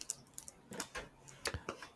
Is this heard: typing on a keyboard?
yes